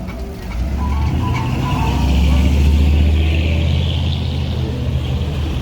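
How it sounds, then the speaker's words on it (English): An old car rolls past on a downtown Chicago street blasting loud music, its deep bass thumping under a broad wash of engine and traffic rumble, with people talking nearby. "look at this old car that is playing loud music."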